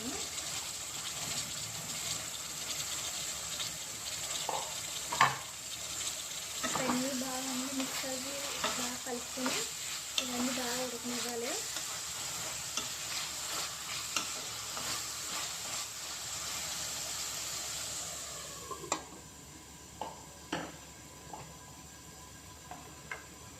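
Cucumber and tomato curry is stirred in a pan with scraping strokes over a steady sizzle. Irregular clinks and knocks follow, and a quieter stretch comes near the end.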